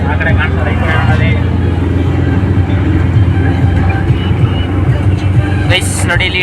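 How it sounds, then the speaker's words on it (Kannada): Steady rumble of a train near Nanjangud, heard continuously and fairly close under rain, with constant low-pitched rolling noise and bursts of higher hiss; a person talks over it. "ಗೈಸ್ ನೋಡಿ ಇಲ್ಲಿ ಟ್ರೈನ್ ಐತೈತೆ."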